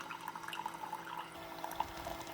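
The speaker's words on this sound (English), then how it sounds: "It's shooting that hot water through that reusable K-Cup." A Keurig K-Mini Plus forcing hot water through a reusable K-Cup, heard as faint steady dripping and gurgling trickles over a low machine hum.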